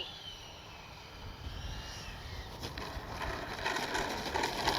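An FMS 80mm F-86 Skyblazer RC jet flies toward the pilot, its ducted-fan whine building steadily louder as it approaches from a distance.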